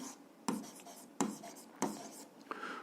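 A pen of a different colour writes on a board in an algebra lesson, three distinct tap-and-scrape strokes spaced about a second apart, close and quiet.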